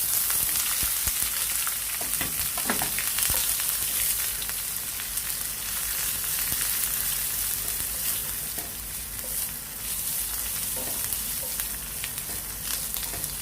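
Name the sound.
ginger and garlic frying in oil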